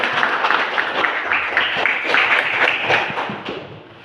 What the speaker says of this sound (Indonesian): Oke, tepuk tangan dulu untuk kalian.